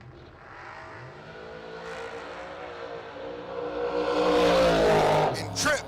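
A blue race truck launches down a drag strip at an outlaw drag racing event, its engine roaring and climbing steadily in pitch to a loud peak near the end, with an announcer's voice running over it.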